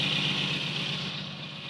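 A Mercedes 190E 2.5-16v Cosworth with a stainless steel exhaust idles after starting up, giving a smooth, even hum with a hissy upper layer that fades slightly toward the end.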